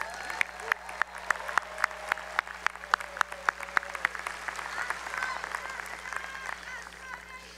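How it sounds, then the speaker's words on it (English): Applause fills a university commencement ceremony, with a large crowd clapping and sharp individual claps near the front in the first few seconds. Faint cheering and voices mix in before the clapping softens. "Another round of applause for President Parm."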